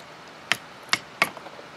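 A sharp knife slices cleanly through rope in three quick, crisp strokes, spaced under half a second apart, close and distinct over a quiet background.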